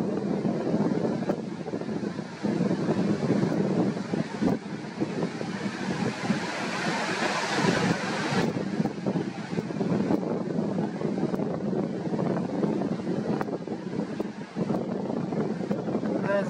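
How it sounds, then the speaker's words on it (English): Wind gusting across a microphone at the seashore with ships offshore, a loud continuous rumbling buffet that swells and eases over the whole stretch, with a person speaking under it. "With the wind blowing, it makes it very noisy"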